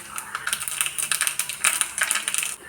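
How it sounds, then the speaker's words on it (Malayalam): Mustard seeds splutter in hot coconut oil for tempering, a close, dense run of sharp crackling pops that keeps going for nearly three seconds before stopping abruptly. "കടുക് പൊട്ടി."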